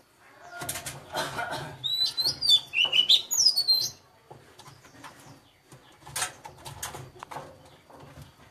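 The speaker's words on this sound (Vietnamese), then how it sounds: "Đây là con chim gáy" A spotted dove chick only a few days old gives thin, high, quick chirps in a short cluster, mixed with soft rustling and fluttering, all fairly faint and close.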